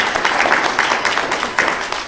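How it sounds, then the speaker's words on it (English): An audience applauds for the kids at a library music performance, a steady dense wash of clapping lasting a couple of seconds. "Give the kids a round of applause."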